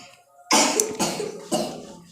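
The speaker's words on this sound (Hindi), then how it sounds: "मुंह पर रुमाल रख के खांसी करो।" A child coughs three times in quick succession, each cough loud, close and harsh, with no talking around it.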